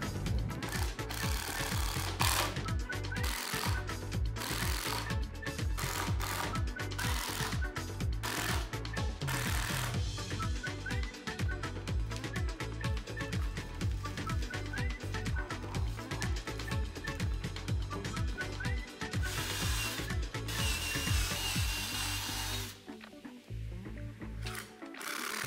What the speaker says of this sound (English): Then using an impact drill to fasten it together.